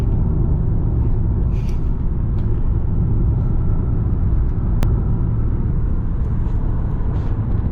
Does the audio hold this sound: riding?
yes